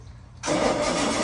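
A 1962 Jaguar XKE that has been sitting cranks and catches on a cold start, then settles into a loud, steady, close engine idle right after a quiet opening.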